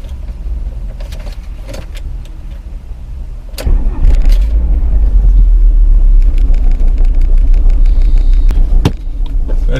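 A vehicle engine turns over and catches partway through, settling into a loud, deep, steady idle rumble close by, with clicks and rattles before it starts.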